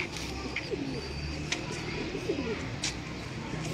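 Soft coos of Sialkoti high-flyer pigeons repeat at a gentle, uneven pace against a rustling background, with a few brief sharp noises between them.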